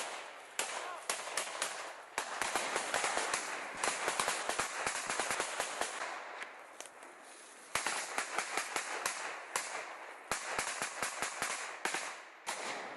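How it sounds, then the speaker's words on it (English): Rapid bursts of rifle gunfire from soldiers in Ukraine war combat footage, a steady crackle of sharp shots fired into the distance, some in quick volleys, fairly loud throughout with brief pauses and no return fire. "You see them firing into the distance,"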